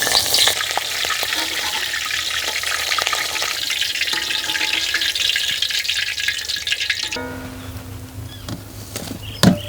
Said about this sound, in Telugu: పచ్చిమిర్చి చీలికలు కూడా కాల్చుకుని పక్కన పెట్టుకుందాం.